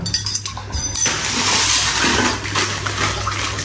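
Water is poured into a pot on a small gas stove, a brief clink at first giving way to a sustained, fairly loud splashing flow that continues to the end.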